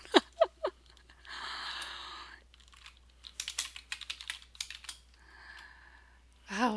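Computer keyboard typed on while working in Photoshop, a few separate bursts of quick, close clicking keystrokes with pauses between them, one voice briefly audible, no other talk.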